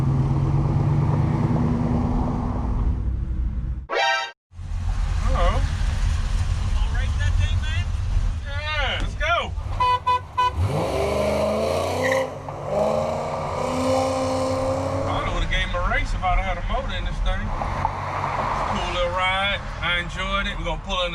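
A 1967 Chevrolet Camaro engine runs and revs through most of the clip, with someone talking loosely over it and brief shifts in engine pitch.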